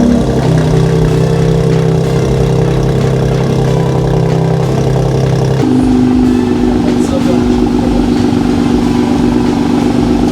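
A Ford Focus engine with a modified downpipe exhaust idles loud and steady, its note shifting partway through to a slightly higher, smoother hum, while people talk nearby.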